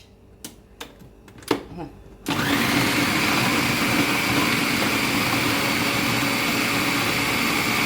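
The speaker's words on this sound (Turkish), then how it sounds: "biberle robotla beraber çekebilirsiniz domatesle biberi" Food processor chopping tomatoes and peppers for a sauce: a few clicks and knocks as the lid is fitted, then the motor bursts on into a loud, steady whirring grind that runs without a break.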